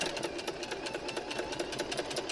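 A domestic sewing machine runs a straight stitch with back stitching on fabric for a baguette bag, giving a steady fast mechanical whir with rapid regular ticks, close and fairly quiet, with no talk.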